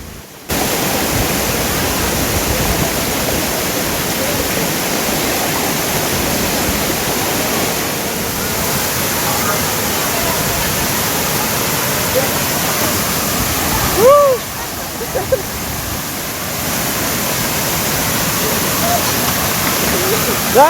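Steady, loud roar of the Vattai waterfall fills the whole scene, a constant broadband rush of falling water with a brief splashy disturbance midway.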